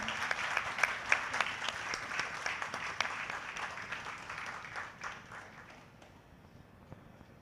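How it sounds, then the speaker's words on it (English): Audience applause following a live musical performance at a cultural evening: a crowd claps steadily, with some louder individual claps early on, then gradually thins and fades toward the end. "Big round of applause for all three of them."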